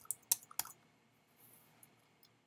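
A few sharp keystrokes on a computer keyboard click in a quick cluster near the start, then sparse faint taps follow in a quiet room.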